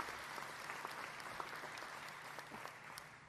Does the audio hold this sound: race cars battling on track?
no